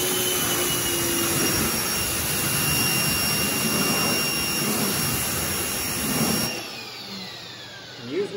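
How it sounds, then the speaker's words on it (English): A pressure washer rinses a 2021 Ford Mustang S550, producing a steady loud hiss and motor drone for several seconds before cutting out near the end. "Using a pressure washer, you want to maintain a safe distance away from the surface that you're cleaning."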